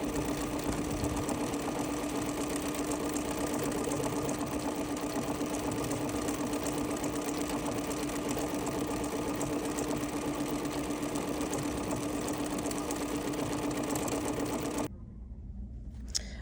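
An embroidery machine stitches a sampler design, sashing the rows: a steady, close mechanical whir with fast rhythmic needle chatter runs unbroken for about fifteen seconds, then stops abruptly into near silence.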